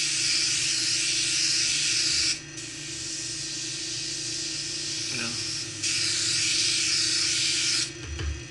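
A silent air compressor hums low and steady while feeding an airbrush, whose sharp hissing spray comes in two long close bursts over the quiet drone.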